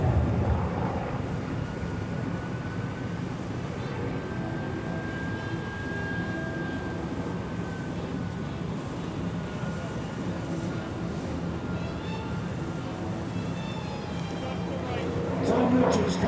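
P-40 Warhawk propeller fighter flying at an airshow, a steady broadband engine drone with a rising and falling tone as it passes, continuous throughout and swelling slightly at the end, with crowd or announcer voices faint beneath.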